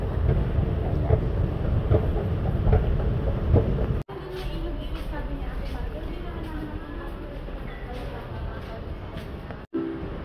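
A steady rumble of an MRT train running in Singapore, with a sharp cut partway through and faint clatter beneath; people talk over the noise.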